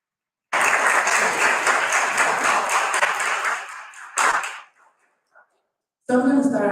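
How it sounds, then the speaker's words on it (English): An audience claps in a dense burst of applause that fades out after about four seconds, followed by a short pause before a voice speaks. "Can we give a round of applause?"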